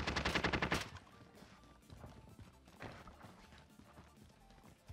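The Milano gun firing in the video game Warzone: a rapid burst of automatic shots at the start, then scattered fainter shots and impacts from the game.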